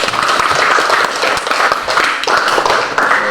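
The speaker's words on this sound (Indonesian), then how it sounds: "Oke, tepukan." Schoolchildren in a primary-school classroom clap together, a dense burst of hand claps that swells and dips in two or three rhythmic waves, close and loud, with faint voices mixed in.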